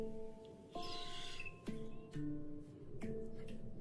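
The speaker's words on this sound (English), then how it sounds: "You hear those birds in the background?" Birds in an outdoor setting chirp and call in a few short, faint bursts over a quiet background, with thin sustained tones like ringing notes of a handpan lingering between them.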